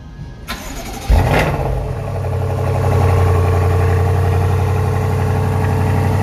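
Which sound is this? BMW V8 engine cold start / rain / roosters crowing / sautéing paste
BMW V8 engine cold start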